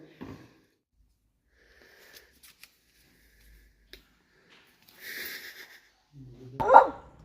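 Mostly quiet with faint rustling, then a single short dog bark close by near the end.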